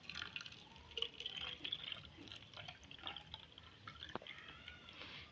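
Homemade rose water toner pours and drips into a bottle, a soft, faint trickle with scattered drip splashes running steadily throughout.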